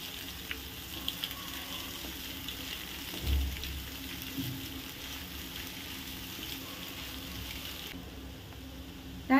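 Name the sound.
grated egg being sautéed in a pan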